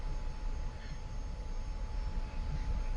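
An F-86F Sabre's jet engine drones while the plane taxis in a flight video game, giving a steady, even low rumble with a thin whine held over it for the whole stretch.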